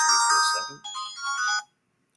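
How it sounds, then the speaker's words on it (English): A phone alarm rings with a bright, melodic electronic tone for about a second and a half, then cuts off into silence; it is close and fairly loud. "there's my phone alarm"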